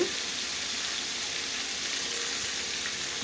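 Ginger garlic paste frying in a pan for a jackfruit veg biryani, producing a steady, even hiss of sizzling oil with no clear pauses, at moderate volume and close by.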